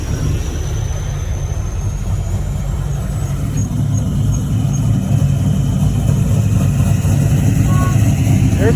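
A large truck rumbles loudly nearby while faint high-pitched backup beeps repeat at a steady interval over the engine drone.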